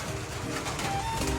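Pigeons cooing in a breeding loft, a close, steady run of low throaty coos that fills the whole moment with no talking.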